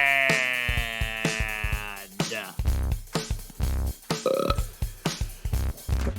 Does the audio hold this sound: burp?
yes